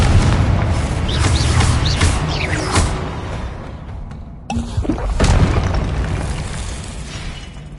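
A Confringo fire spell explodes in Hogwarts Legacy on PS5 with a loud, booming blast and a sustained roaring rumble, followed by a brief dip and a second burst.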